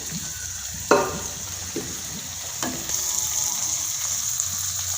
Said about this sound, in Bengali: সেদ্ধ মটরগুলো ঢেলে নিলাম